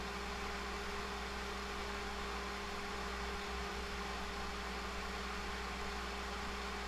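A 90 millimeter fan spinning at roughly 3,000 RPM for sim racing wind simulation gives a steady low hum with a faint airy whir, quiet and unchanging throughout.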